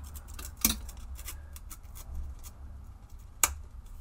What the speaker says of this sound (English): I can peel the liquid gloss off if I'm very careful in that corner. This is the finish just peeling off.